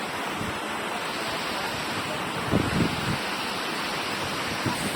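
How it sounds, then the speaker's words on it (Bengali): Heavy monsoon rain pours down steadily in a Bengali setting, a dense, even hiss filling the whole clip, with a few brief soft thumps near the middle and end. "আজকে ভাঙাতে অনেক অনেক বৃষ্টি হচ্ছে"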